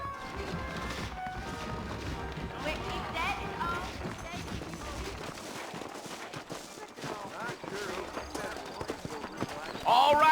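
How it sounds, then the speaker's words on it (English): Horse hooves clip-clopping in Red Dead Redemption, steady rhythmic hoofbeats running through the whole stretch under game dialogue and a background score. "I got the horses saddled up and ready out front."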